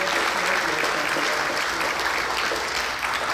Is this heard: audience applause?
yes